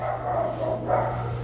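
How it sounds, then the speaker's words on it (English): A dog outside barking and yipping in short bursts, muffled and moderately distant over a steady low hum. "the dog's out there acting fool"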